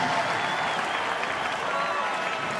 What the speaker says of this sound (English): Waldo Stadium fans, something to cheer about.